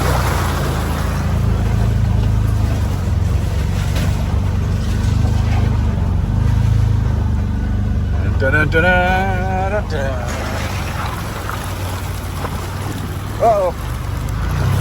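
A Can-Am off-road vehicle drives through water with a steady, loud engine roar and churning splash. A voice briefly exclaims near the end.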